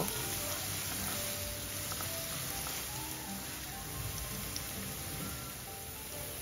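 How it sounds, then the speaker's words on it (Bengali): Half a cup of chopped onion sizzles in hot oil in a home kitchen, a steady, dense frying hiss that runs unbroken and fairly close throughout, with no talking. "তেলটা গরম হয়ে গেলে হাফ কাপ পরিমাণ পেঁয়াজ কুচি দিয়ে দিলাম। পেঁয়াজটাকে হালকা বাদামি হওয়া পর্যন্ত ভেজে নিব।"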